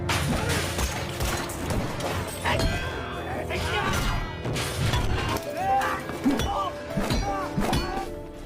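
A lamp is thrown and smashes with a bright shatter of breaking glass during a film fight, mixed with thuds, impacts, music and people's voices.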